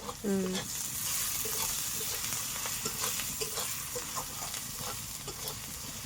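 A ground paste with prawn heads fries in a pan, giving a soft, continuous crackling sizzle that stays faint and even throughout, with a brief ringing tone near the start.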